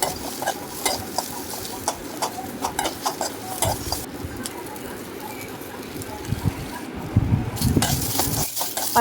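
Onions and green chillies sautéing in oil with mustard seeds and urad dal in a pan for a capsicum chutney, a steady close sizzle broken by frequent scraping and clinking of a spoon stirring against the pan.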